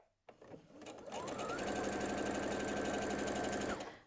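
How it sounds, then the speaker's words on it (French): Sewing machine stitching two quilting fabric strips along their long sides, starting after a brief pause, then a steady rapid mechanical whirring and ticking run that stops abruptly near the end, close and clear. "Je vais donc les coudre"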